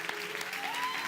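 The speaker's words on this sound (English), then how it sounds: "since you're clapping" Dense, steady clapping from a congregation at a Sunday church service in Nigeria, a brief continuous wash of many hands at moderate level.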